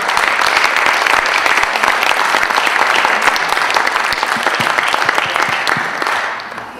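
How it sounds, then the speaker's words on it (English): A lecture audience breaks into dense, sustained applause at the close of an open lecture. The clapping stays loud and steady for several seconds, then thins out at the end. "Then it's first round of applause."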